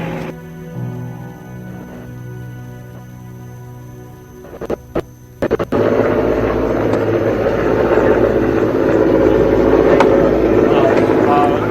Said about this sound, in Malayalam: ഹെലികോപ്റ്റർ ഉപയോഗിച്ചുള്ള നിരീക്ഷണവും